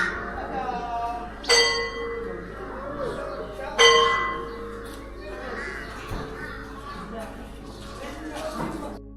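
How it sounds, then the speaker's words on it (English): A monastery bell at Gangtey Monastery in Bhutan's Phobjika Valley strikes twice, each a bright ringing clang that slowly decays, over a busy outdoor background with crows cawing and faint voices. "In the lunchtime, they ring the bell."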